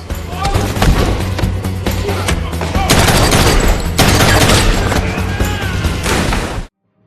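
Dense, sustained gunfire from a street-and-hotel shootout in the 2017 action film John Wick: Chapter 2, with rapid overlapping shots and crashes under a booming score, loud throughout before cutting off abruptly near the end.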